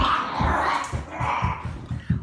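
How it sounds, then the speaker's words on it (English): Two dogs growl and tussle over a toy at close range, a rough run of pulsing low growls repeating every fraction of a second, with a few higher yelps mixed in. "The dogs are fighting over a toy."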